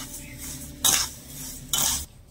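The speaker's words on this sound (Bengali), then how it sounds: "এবার আমি এই বাদামগুলো চালের সাথে একটু নেড়ে ছেড়ে ভেজে নেব।" Cardamom, cashews and almonds stirred with raw rice in a pan, two short scraping sweeps of a utensil against the metal separated by a quiet pause.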